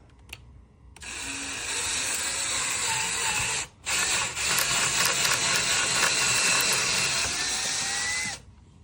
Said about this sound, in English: So we'll go ahead and drill.